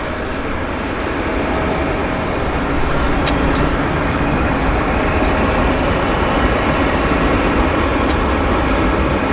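A WestJet Boeing airliner at Vancouver airport, its engines a loud, steady broadband roar that holds constant and swells slightly, heard alone with no talk.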